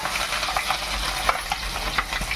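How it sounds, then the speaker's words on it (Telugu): Cumin seeds and green chillies sizzle in hot oil at the start of cooking a bitter gourd chilli powder, a steady close crackle and hiss with light stirring scrapes and no talking. "నూనె అయితే వేడైంది ఇప్పుడు జీలకర్ర వేసుకుందాం"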